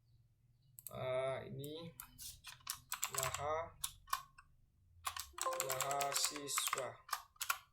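Computer keyboard typing during an SQL join query demonstration, clicky keystrokes in short bursts under a person talking.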